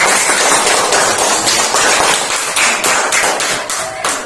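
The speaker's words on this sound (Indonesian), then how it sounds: "Tepuk tangan dulu untuk kalian semua." Classroom of primary school pupils clapping hands together, a dense, loud burst of many overlapping claps that continues steadily for several seconds before tapering slightly.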